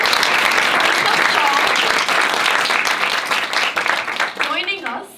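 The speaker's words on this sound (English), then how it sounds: "Please, round of applause." Audience applause for a film director at a screening of Architecture of Infinity in Cairo: dense, sustained clapping from a sizeable crowd that fades near the end as a voice begins speaking over it.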